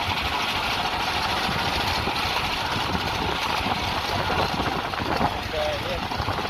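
A dune buggy powered by a Honda GX390 generator engine drives in second gear. The engine drones loudly and steadily with a rough, buzzing rumble and wind noise, and a voice speaks over it.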